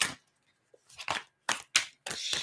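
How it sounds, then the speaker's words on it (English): A deck of tarot cards is shuffled in several quick, crisp riffling bursts separated by short pauses, close and fairly loud with no one talking. "Shuffle going."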